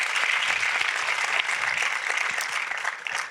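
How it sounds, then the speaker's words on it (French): Steady, dense applause from a crowd, clapping continuously and fairly loud throughout. "Je vous applaudis."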